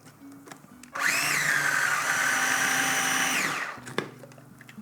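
A kitchen blender blitzes salsa verde with a big teaspoon of Dijon mustard, a loud steady whir running about three seconds alone, starting and stopping abruptly.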